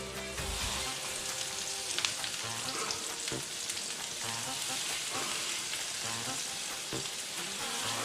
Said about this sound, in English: we're just going to start frying the pork off.